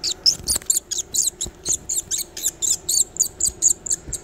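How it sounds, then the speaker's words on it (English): A chimney swift held in hand by a person at a lake gives a rapid series of high, sharp chittering calls, about a dozen evenly spaced bursts, close and fairly loud with light handling noise beneath. "Chimney swift. That's why it's called a chimney swift."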